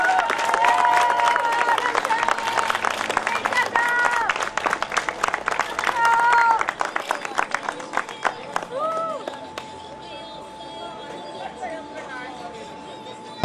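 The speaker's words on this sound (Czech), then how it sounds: "Takže poprosím vám ještě jednou o řádný potlesk" Crowd applause for elite-category winners at the Velká cena Popelína road cycling race, dense clapping over an announcer talking on a PA, tapering off to a quieter background hum in the final seconds.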